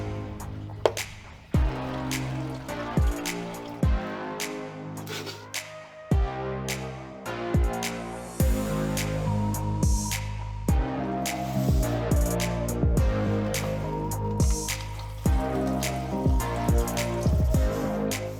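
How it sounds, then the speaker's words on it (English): Coolant drains steadily from a car radiator with the cap opened, giving a continuous liquid pour with scattered drips and splashes, close and fairly loud throughout. "you can open up your radiator cap and that'll just let air into the top of the radiator and let that drain much quicker."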